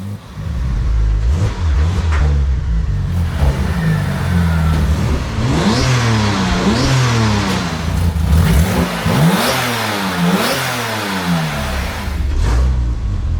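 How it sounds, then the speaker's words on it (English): A Porsche 997 911 Turbo engine revs repeatedly through its exhaust, rising and falling in pitch, loud and close, with a steady idle rumble underneath. "this exhaust definitely has to go. It's way, way, way too quiet."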